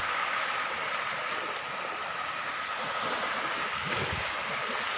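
Waves washing onto the shore of Lake Issyk-Kul on a clear March day, a steady broadband wash mixed with wind rumble on the microphone, continuous, with no voices.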